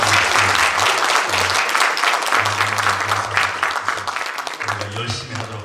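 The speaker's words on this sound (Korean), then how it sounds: "이럴 때 박수 한번 크게 쳐주셔야 됩니다" A church congregation claps loudly and continuously at a founding and elder ordination service, with a steady crowd texture and a low hum or voice rising underneath in several stretches.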